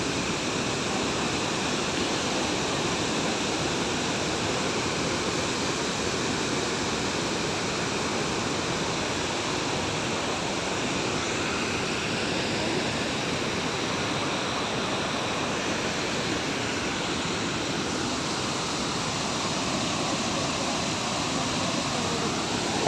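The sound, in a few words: Gundicha Ghai waterfall in Keonjhar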